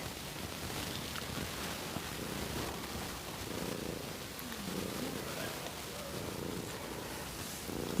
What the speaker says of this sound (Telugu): మా పిల్లి వచ్చింది